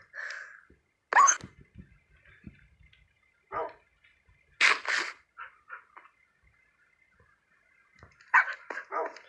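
A tamed wolf in Minecraft barks in short separate bursts, several sharp yaps spaced over a quiet background, close and fairly loud.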